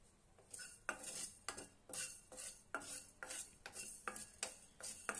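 Fenugreek seeds being roasted in a pan for gongura pickle are stirred with a metal spoon, giving a quick series of rhythmic scraping and clinking strokes, close and fairly quiet, with no talk.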